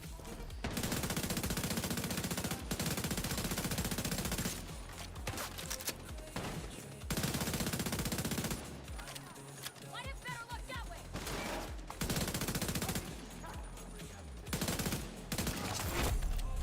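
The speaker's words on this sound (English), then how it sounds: "Pretty sure I'm shooting that fucking thing." Automatic gunfire from the Division 2 video game, dense sustained bursts with brief pauses over a game soundtrack, loud and close throughout.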